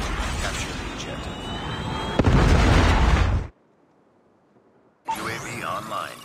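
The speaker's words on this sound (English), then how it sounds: "hostile Predator missile inbound" Predator missile explosion in Call of Duty Mobile, a loud dense blast with crackling debris that cuts off abruptly, followed by a short near-silence and then more game noise.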